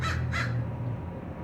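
A crow caws twice in quick succession over a steady low rumble, with no other sounds.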